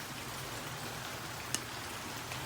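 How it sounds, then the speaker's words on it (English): Steady rain falls continuously as an even broadband hiss, with a single sharper drop tapping nearby partway through; no voices. "right now it's raining"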